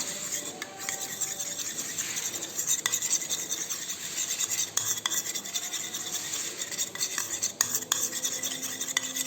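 Yellow food coloring is mixed into kastengel cookie dough, a steady close rubbing and scraping with occasional light clicks of a utensil against the bowl throughout, without speech.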